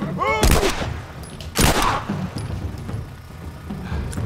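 Two sharp, loud gunshot bursts ring out in The Last of Us game audio, separated by about a second, followed by quieter background rumble and faint effects.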